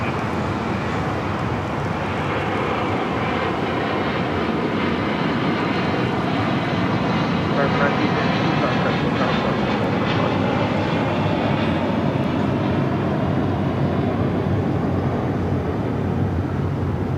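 An airliner bound for Charlotte takes off at LAX, a loud, sustained jet roar with a rising whine and shifting tones as it passes, heard with no talking.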